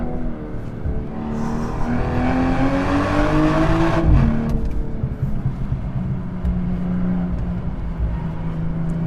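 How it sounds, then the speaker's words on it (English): A BMW M240i driven hard on twisty mountain roads, its engine droning loudly and steadily while a rising tonal squeal from the tires sweeps up and cuts off, then the engine continues alone. "Get a little bit of tire squeal there"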